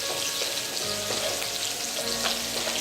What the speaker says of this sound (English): try to fry it properly, the green chilli